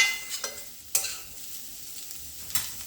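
Carrots sauté in a pan with a soft, continuous sizzle, broken by a few sharp scrapes and clinks as a spoon stirs them, close and fairly quiet.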